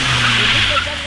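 A car revving hard while being parked, a steady engine roar close by, with people talking over it.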